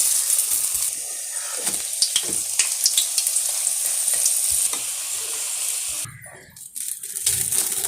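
Vegetable chicken rolls frying in hot oil, a loud steady sizzle and bubbling close up, with a brief clatter of stirring partway through and no talking.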